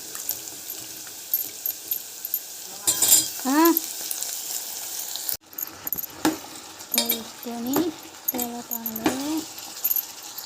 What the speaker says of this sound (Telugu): మిరపకాయలు కొంచెం వేగినాయి ఇలా వేగిన తర్వాత సూరకాయ ముక్కలు వేసుకోవాలి